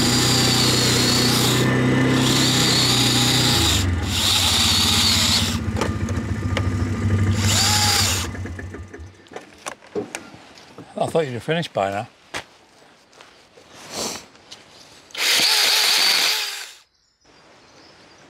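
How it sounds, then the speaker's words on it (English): A battery chainsaw cuts through wood in long, loud, buzzing passes, then comes scraping and knocking as the wood is handled, and a final short burst of cutting. A voice speaks briefly partway through. "you're going to be holding the wood while I chop it with a chainsaw"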